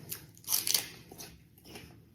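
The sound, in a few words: biting and crunching raw scallion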